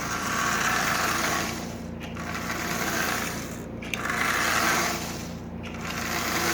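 A Marx 1666 toy train locomotive with a double reduction motor runs continuously, a steady whirring buzz that swells and fades in regular cycles as it circles, with short dips every couple of seconds.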